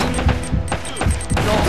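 A heavy, booming grenade blast in Uncharted: Drake's Fortune hits amid rapid gunfire, loud and close, followed by more crackling shots and rumbling.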